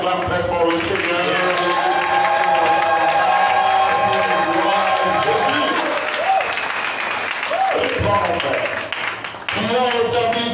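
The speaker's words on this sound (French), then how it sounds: "Si tu as compris, acclame très fort le Seigneur." A church congregation applauds and cheers for the Lord with loud, sustained clapping, joined by shouting voices and a few raised exclamations, filling the room for about ten seconds.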